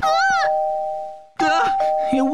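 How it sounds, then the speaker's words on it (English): A Minecraft doorbell chimes loudly twice, a bright ringing tone that sustains and fades before ringing again, with excited high-pitched cartoonish voices overlapping the chimes. "It won't stop ringing the doorbell!"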